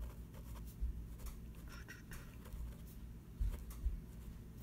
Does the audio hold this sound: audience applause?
no